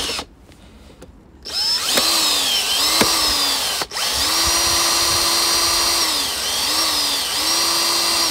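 Power drill unscrewing a bolt on the EGR valve of a Toyota hybrid, with a short burst followed by longer loud whirring runs and brief pauses, close up.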